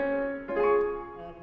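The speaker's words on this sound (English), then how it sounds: "Pianists usually like to go with scales for warm up for fingers." An ordinary acoustic piano plays a warm-up scale; sustained tones ring out, and a fresh note enters about halfway through, sounding clear and close with no one speaking.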